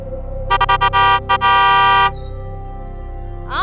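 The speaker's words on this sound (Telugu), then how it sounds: "ఓ హారన్ కొడితే ఎలా" A car horn honks in a rapid series of loud, close blasts, several short toots followed by a longer held blare, with no talking over it.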